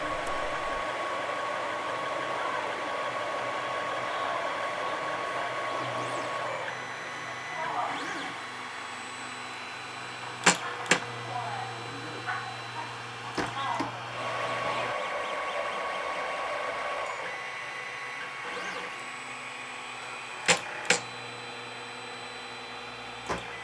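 A 3D printer working on parts for a taser watch hums and whirs steadily, with shifting motor tones, a few sharp clicks and knocks, and some muffled background activity.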